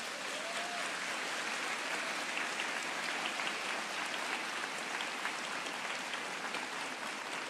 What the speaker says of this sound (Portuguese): Sabe que eu ia pedir essa salva de palmas?